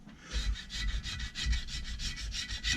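Abrasive cloth rubbed over the exhaust gasket surface of a Yanmar 3HM35F engine, heard as about a dozen quick, even back-and-forth scrubbing strokes, close and steady, with no talking.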